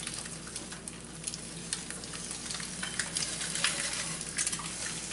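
An egg fries in a pan while bread toasts for a homemade breakfast sandwich, giving a steady, soft sizzle and crackle throughout with scattered small pops, fairly faint and close, with no voices.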